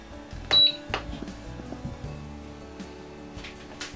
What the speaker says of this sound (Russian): Закрываем крышку мультиварки. Теперь включаем режим плов.